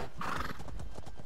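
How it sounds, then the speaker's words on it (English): Many player horses gallop together across Cyrodiil in Elder Scrolls Online PvP, a dense rush of overlapping hoofbeats with a whinny rising above, loud and continuous for a brief moment. "And they're all riding along together. It's like a fleet of horses,"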